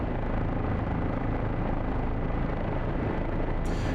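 A helicopter in a flight simulator game, slowing and descending toward a helipad, makes a loud, constant rotor and engine roar that fills the whole stretch without letup.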